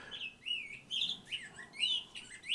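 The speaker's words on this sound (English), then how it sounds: "Here is a beautiful field sparrow." A field sparrow sings a series of thin, high chirps and slurred whistles at a steady pace, moderately close over a quiet outdoor background.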